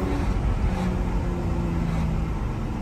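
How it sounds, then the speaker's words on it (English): Steady, loud low rumble of the V12 engine in a 2004 Lamborghini Murcielago with factory exhaust, droning continuously while cruising, with no voices over it. "it's got that nice sound to the V12."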